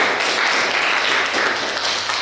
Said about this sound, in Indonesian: Beri tepuk tangan untuk kelompok dulu.